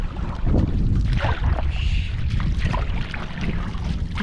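Gusty wind on an island shore where a small boat is kept, heavy low-frequency buffeting against the microphone that swells and eases, with faint water-like hiss underneath.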